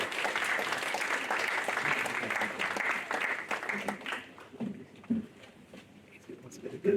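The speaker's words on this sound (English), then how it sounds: "So give yourself a round of applause." An audience at a diversity and inclusion culture day gives itself a round of applause, a dense burst of clapping that thins out and fades to scattered claps and murmuring voices.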